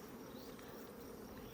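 Honey bees buzz steadily inside an open beehive as they work honeycomb, a dense, continuous hum filling the whole stretch at close range with no pauses.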